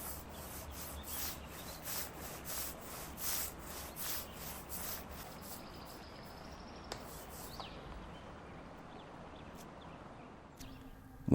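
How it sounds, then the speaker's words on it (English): Cloth wiping a Formica surface with wax wash remover, a series of rhythmic rubbing strokes close by for several seconds that then fade to quiet room noise. "I'll clean the Formica surface with wax wash remover"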